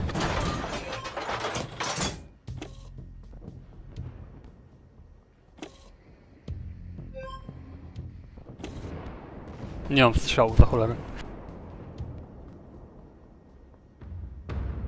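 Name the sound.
artillery fire from the video game Armored Warfare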